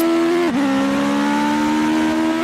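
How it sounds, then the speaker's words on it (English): A race car powered by a Yamaha motorcycle engine with a sequential gearbox holds a loud, high-pitched buzzing drone close by, dipping briefly as if shifting gear, then climbing steadily again. "these cars sound like motorcycles actually"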